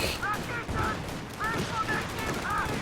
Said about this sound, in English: Rifles gunning down quick.